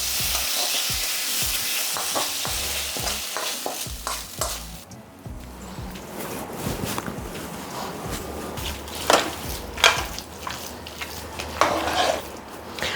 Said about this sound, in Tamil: இந்த பெருங்காயத்து மேலே இந்த சூடான எண்ணெய் ஊற்றிடலாம்.